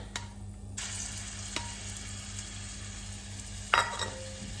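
Garlic and ginger paste sizzles in oil in a pan for chicken tikka Ceylon, a steady soft hiss beneath a low hum, broken by a few sharp clicks and a brief scraping burst near the end.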